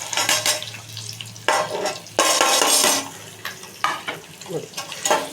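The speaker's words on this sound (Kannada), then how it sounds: "ಇದು ಸ್ವಲ್ಪ ಫ್ರೈ ಆಗಲಿ" Onion, green chilli and curry leaves fry in masala for a Maggi masala tomato bath, with steady sizzling, bursts of spoon-stirring scrapes and pan clatter, close and fairly loud with no talking.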